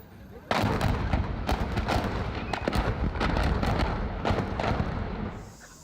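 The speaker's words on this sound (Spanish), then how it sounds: "parte de la carga explotó" Explosives in a dump truck's cargo detonate in a rapid string of loud blasts and cracks, like heavy gunfire, lasting several seconds before the sound cuts off; a voice can be heard faintly underneath.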